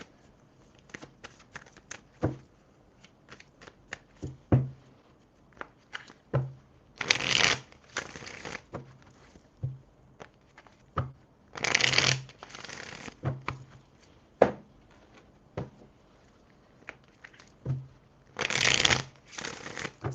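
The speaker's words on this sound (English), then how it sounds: "I gotta shuffle all these cards" Bursts of tarot cards being riffled and shuffled close by, separated by lighter taps and flicks of handling, repeated several times.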